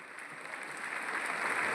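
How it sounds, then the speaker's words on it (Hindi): A crowd at an RCM achievers ceremony claps for the youth royalty achievers, a brief, fairly faint patter of applause that swells slightly toward the end. "एक बार तालियां जोरदार होनी चाहिए ऑल यूथ रॉयल्टी अचीवर्स के लिए"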